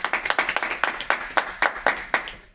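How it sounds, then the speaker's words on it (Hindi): Audience applause for a poet at a Hindi poetry recital, heard as a short run of distinct, sharp claps in an irregular rhythm, fairly close and moderately loud, with no talking. "उनके सम्मान में जोरदार तालियां।"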